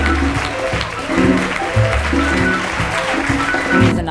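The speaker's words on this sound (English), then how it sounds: "I think all of them in HOLA deserve a big round of applause" An audience at the 2013 HOLA Awards gala gives a short burst of applause, somewhat muffled and mixed with low hum and room noise, lasting only a few seconds.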